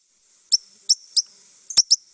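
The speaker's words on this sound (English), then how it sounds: "So these are white-crowned sparrows calling." White-crowned sparrows give a series of five sharp, high chirping calls, spaced unevenly with two close together near the end, clear and alone against silence.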